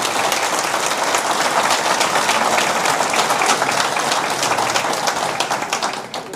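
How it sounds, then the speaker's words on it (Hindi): Loud, dense applause from a large audience at a speech by Imran Riaz Khan, continuous clapping that holds steady for several seconds before easing slightly at the end. "दोनों जजेस के लिए पहले तालियां बजाएं आप सब लोग"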